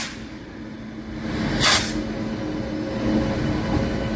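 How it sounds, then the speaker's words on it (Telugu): A Singareni MEMU train pulls to a stop at busy Kazipet Town station, its steady rail rumble swelling mid-clip with a short burst of hissing noise, alone with no talk. "కాజీపేట టౌన్లో ఆగిందండి మన ట్రైన్"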